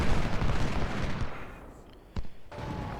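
Battle din from Ultimate General Civil War at Shiloh, a dense rumble of massed musket volleys and artillery fire that thins briefly, then a sharp single report before the crackling fire resumes.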